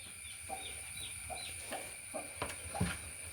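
Farm chickens cluck softly in short, scattered calls spread across a few seconds, faint and unhurried against a quiet background.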